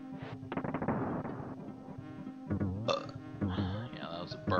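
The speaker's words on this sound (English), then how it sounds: "that was a burp" Loud, drawn-out human burp rolling over background music from a Donkey Kong Country game, followed by a few shorter gulping belch sounds near the close.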